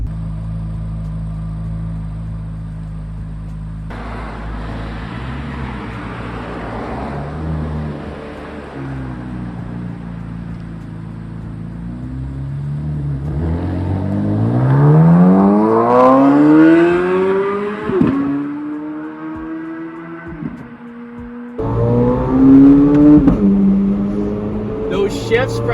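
A Corvette Z06 with a naturally aspirated V8 and eight-speed dual-clutch transmission idles with a deep burble, then pulls hard with rising engine howls toward 8600 RPM. A quick shift interrupts the climb before a second loud pull.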